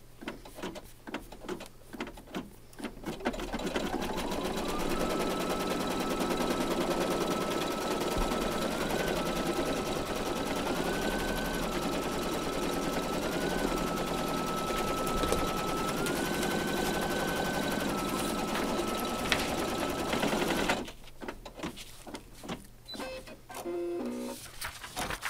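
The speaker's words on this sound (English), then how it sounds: "do the placement stitch" An embroidery machine stitches an in-the-hoop valentine placemat placement outline with a steady, loud mechanical whir and rhythmic needle chatter that rises in pitch at moments, starting and stopping with quieter handling noises around it.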